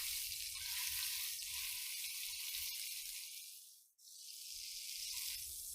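Pork tenderloin searing in a hot pan, a continuous close sizzle that dips to near silence for a moment before resuming, with no talking.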